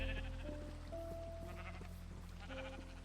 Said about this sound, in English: Let's just dye a couple of these sheeps.